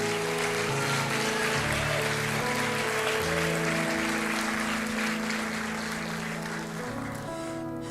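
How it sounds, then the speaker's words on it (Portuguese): Congregation at an evangelical church service in São Paulo applauding, a dense, sustained wash of clapping from a large crowd filling the hall, steady throughout and easing slightly toward the end. "Você pode aplaudir o Senhor?"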